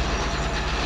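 A Virgin Trains East Coast train passes at Peterborough station, a loud, steady rumble of wheels and carriages with rhythmic clatter filling the whole second, no voices.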